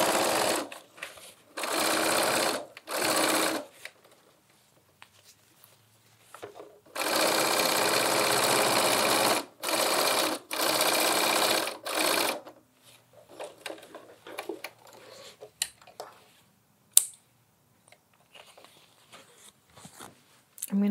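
A sewing machine stitches red canvas for a lined tote bag in several loud, steady bursts separated by pauses, with softer handling clicks and fabric movement in between.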